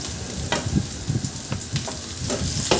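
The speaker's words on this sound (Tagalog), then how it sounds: "At igisa ko na rin yung sibuyas." Onion sautéing with garlic in hot oil, a crackling sizzle broken by several sharp stirring scrapes of the spoon against the pan, close and fairly loud.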